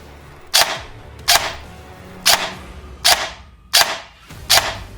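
A cheap Matrix AEG airsoft rifle with a micro switch MOSFET fires six sharp, snappy single shots at roughly even intervals, loud and close with no talking.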